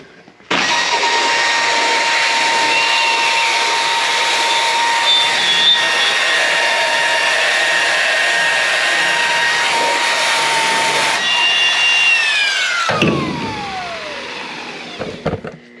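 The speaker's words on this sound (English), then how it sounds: "This is just a Black & Decker rotary tool, but this is the magic here. This is a scrubbing disc from Al's Bedliner" Worn, dying Black & Decker rotary tool with a scrubbing disc from Al's Bedliner prepping a truck bed, a loud continuous high whine that holds steady, wavers slightly, then spins down sharply near the end.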